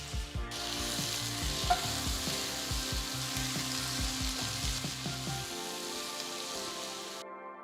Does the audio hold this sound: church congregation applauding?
no